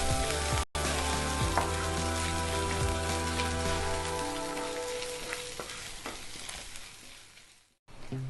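Crushed ginger and garlic frying with cumin seeds in hot oil for a soya kheema, a steady close sizzle with occasional stirring scrapes, no voices, fading slightly toward the end.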